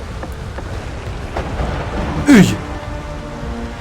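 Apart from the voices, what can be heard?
rain and thunder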